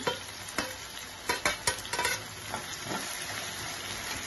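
Eggplant, potato and curry leaves fry in a pan for a tomato curry, a steady close sizzle punctuated by sharp crackling pops and stirring scrapes, with no voices.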